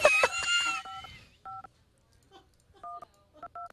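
DTMF keypad tones from an Android emulator's phone dialer sound as short, separate beeps, several presses spaced unevenly after a brief burst of louder sound at the start.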